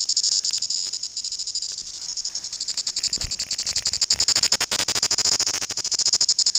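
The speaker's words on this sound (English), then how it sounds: "So a lot of people might think that cicada has quite a large mouth to make a noise." New Zealand chorus cicada held in a hand, buzzing in rapid rhythmic pulses that swell and fade, loud and close, with a brief thump of handling midway.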